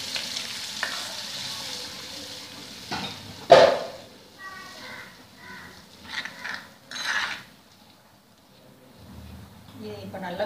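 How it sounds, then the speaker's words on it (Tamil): Tamarind water and masala poured into a hot pan with a sizzling hiss for a fish curry, followed by stirring and scraping of the pan while a person talks. "நம்ம கரைச்சி வச்ச இந்த புளி தண்ணி, மசாலா எல்லாத்தையும் இதில் ஆட் பண்ணிடணும்."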